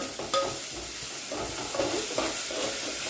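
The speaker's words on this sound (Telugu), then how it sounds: "ఇందులో అల్లం వెల్లుల్లి పేస్ట్ వేసి పచ్చివాసన పోయేంత వరకు కలుపుకోవాలి" Ginger garlic paste frying in a pan for a fish curry, stirred steadily with a spatula, giving a continuous close sizzle broken by scraping strokes and small clinks, with no talking.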